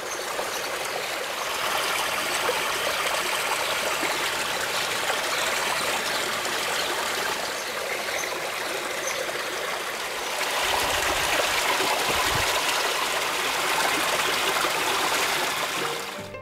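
Mineral spring water from the Agioi Anargyroi and Kakavos springs at Loutra on Kythnos flows steadily with a close, continuous rushing and trickling, swelling slightly louder partway through.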